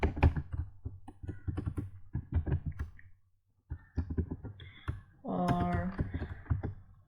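Rapid clicking of computer keyboard keys while C program code is typed, bursts of uneven taps close to the microphone, broken by a short pause, with someone speaking Hindi over parts of it.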